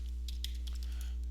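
Steady run of light keyboard keystrokes, irregular taps typed on a computer while browsing Smalltalk classes, close and fairly soft over a constant low electrical hum.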